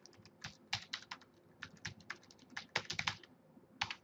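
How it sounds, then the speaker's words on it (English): Rapid, irregular clicking of keys on a computer keyboard, typed in short bursts with small pauses, close and fairly quiet, with no voices. "Let's go ahead and just type that in from scratch."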